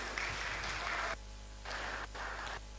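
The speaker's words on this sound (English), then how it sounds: "All, please, if you could, a round of applause" A temple congregation at ISKCON Phoenix's New Jagannath Puri Temple applauds the volunteers, with soft, fairly distant clapping that comes in a few bursts broken by short pauses.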